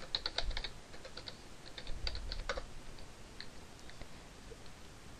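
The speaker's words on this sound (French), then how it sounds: "on tape render Photoshop" Keys clatter on a computer keyboard as a search is typed, a quick cluster of light, close taps that thins out into a few scattered presses over faint background noise, with no talking.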